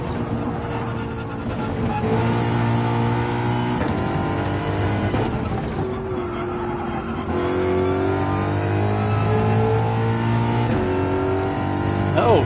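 A Red Bull race car in Gran Turismo 7 revs loudly through its gears, its engine tone climbing in repeated rising sweeps with brief dips at each shift.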